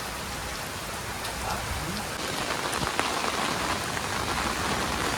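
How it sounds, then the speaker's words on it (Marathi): Heavy monsoon rain pours down steadily near a village house, a dense, even hiss of drops on surfaces close by with scattered louder splashes and no clear voices. "पाऊस खूप आहे"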